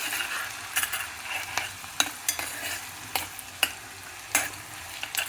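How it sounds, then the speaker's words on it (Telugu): Onions and green chillies fry in a pan, giving a steady crackling sizzle with louder pops and scraping stir strokes now and then. There is no talking. "ఉల్లిపాయలు పచ్చిమిరపకాయలు వేసి ఎర్రగా వేగించుకోవాలి"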